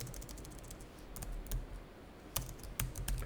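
Typing on a computer keyboard during accounting software data entry, with scattered key clicks and a few sharper strikes over a steady low room hum, close and fairly quiet, no talking.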